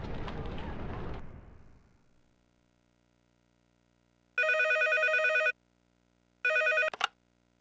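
A telephone rings in the dating sim Tokimeki Memorial 3, two bright electronic ring bursts with a pause between, sounding after fading background music in an otherwise quiet scene.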